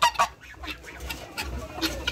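A goose honks several times in a backyard with ducks and chickens, loud, close calls in short bursts at the start and near the end over low background noise.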